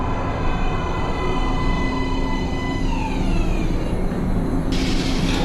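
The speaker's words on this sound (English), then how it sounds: "Train coming in." A metro train pulls into an underground station in the video game Metro: Last Light, a steady heavy rumble with rising wheel squeal and a brief hiss near the end. No one speaks.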